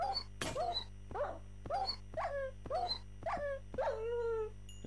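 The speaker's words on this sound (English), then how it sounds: "here's where I murdered my second dog" A dog in the Minecraft video game gives a run of sharp, high whimpers and yelps as it is struck, about eight short cries in an even rhythm, clear and close against a low steady hum.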